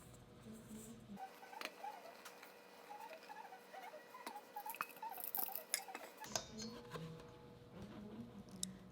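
Flour sifted through a large-holed colander for a Vietnamese honeycomb cake batter, giving soft, steady pattering and tiny ticking taps close by, with no talk.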